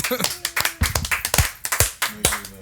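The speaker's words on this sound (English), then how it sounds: "I got to make a clap" Sharp hand claps and taps ring out close by in a podcast studio, scattered among steady conversation between two people.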